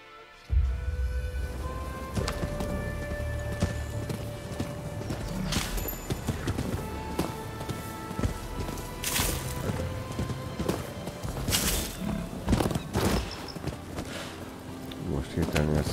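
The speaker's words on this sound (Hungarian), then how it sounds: "A ló ez többet röfög, mint bármelyik disznó" Horse hooves clip-clop steadily with snorts in the samurai action video game Rise of the Ronin, loud and continuous alongside background game sounds, with someone talking over it.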